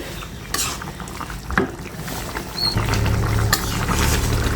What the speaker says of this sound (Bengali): একটু নেড়ে সেড়ে দিব সাজনাটা